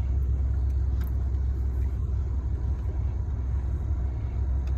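A car rolls slowly off-road with a learner at the wheel, giving a steady low rumble with gentle engine drone throughout and no clear speech.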